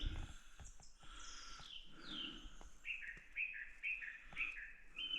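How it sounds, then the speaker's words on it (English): Wild birds sing and chirp steadily at a moderate distance in the Brecon Beacons, with repeated high whistled phrases over a quiet outdoor background. "Hear those birds?"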